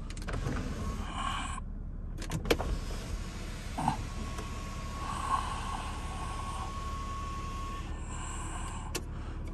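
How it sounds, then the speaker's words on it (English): Electric sunroof motor on an Audi RS5 running inside the cabin, a low steady motor hum with a few clicks and small bumps, close and moderate in volume, with no speech. "We'll just open the sunroof."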